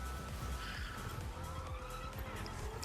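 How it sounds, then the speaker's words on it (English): Engine drone and tire noise of a car in the Fortnite Rocket Racing video game, a steady loud rumble with skidding squeals throughout, no talking. "There's a car going the wrong way here"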